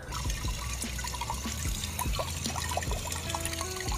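Tap water pours steadily into a stainless steel pot being filled for dyeing seat belts, a continuous splashing stream with small clinks and bubbling, close and alone without talk.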